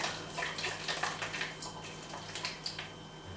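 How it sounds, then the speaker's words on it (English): Water being poured into bottles for a yeast experiment, a quiet, steady splashing trickle with small gurgles, close by and heard alone. "Where we're adding the water, 250 mils, at the corresponding temperature to each of the bottles"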